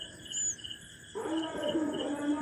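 A rescued baby bird chick gives faint, thin, high chirps and a brief whistle-like call against a quiet background.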